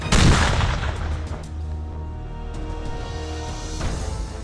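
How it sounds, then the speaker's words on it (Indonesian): An explosion set off during military demolition training with Indonesian naval frogman commandos, a loud sharp blast at the start that decays into a long rumbling roll, heard outdoors with no talking. "ledakan!"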